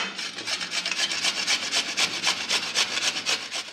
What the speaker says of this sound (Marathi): आता याला मी या किसणीने किसून घेते